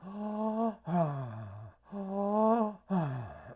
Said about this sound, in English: my holistic breathing technique helps you do that via deep, noisy, prolonged diaphragmatic breathing